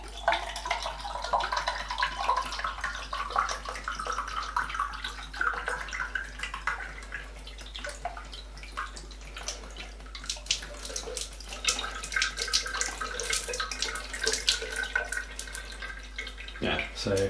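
Water pours steadily into the tank of a Fairywill water flosser, a continuous close splashing trickle that runs unbroken for the whole stretch and ends with a few knocks of handling.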